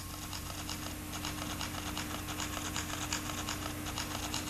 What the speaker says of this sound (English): You can put in some text with the crappy keyboard. Sounds like a typewriter.